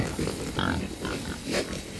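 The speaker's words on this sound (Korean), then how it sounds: "수암저수지 건너편에서 멧돼지 가족이 진흙 목욕하는 모습이 포착됐다" A family of wild boar, a sow with young, grunts while mud bathing across a reservoir in late afternoon, with several rough snorting grunts at irregular intervals amid steady outdoor background noise.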